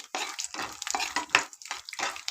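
Peanuts frying in oil in a pan for a beaten-rice breakfast dish, heard as bursts of sizzling and stirring scrapes that come in a steady rhythm, close and clear with no talking.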